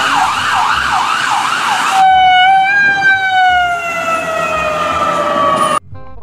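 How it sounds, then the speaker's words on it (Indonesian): An ambulance siren warbles rapidly, then slides into a long falling wail, loud and close, before cutting off abruptly. "Kalau yang ini ambulan."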